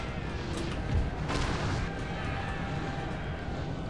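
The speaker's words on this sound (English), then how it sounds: "I want to focus my artillery on their artillery and on their cavalry." Artillery fire in Napoleon: Total War, a dense rumbling battlefield wash with a muffled cannon boom rising briefly out of the continuous low roar.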